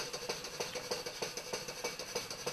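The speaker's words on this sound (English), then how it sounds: "I can push it through the engine by running the compressed air" A PM Research 6CI steam engine runs on compressed air, its regular rapid chuffing exhaust beats and light mechanical clatter repeating evenly at close range, fairly quiet, with no talking.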